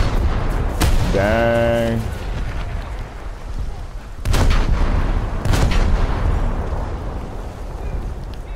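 Rapid bursts from an automatic naval gun firing shells aboard the coastal ship USS Asheville in a video game, loud booms and a sustained blast sequence echoing, with brief speech.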